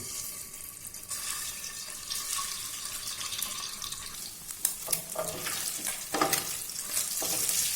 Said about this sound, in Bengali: তেল গরম হয়ে গেছে, আমি এবার এতে দিয়ে দেবো আগের থেকে সেদ্ধ করে রাখা ডিম